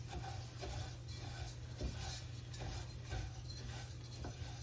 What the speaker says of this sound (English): So there's about 2 cups of jasmine rice